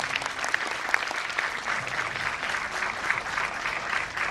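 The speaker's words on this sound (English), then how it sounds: "Let us give them a huge round of applause." Audience applause at a school Grandparents' Day celebration, a steady dense wash of many hands clapping at once, sustained and fairly distant throughout with no talk.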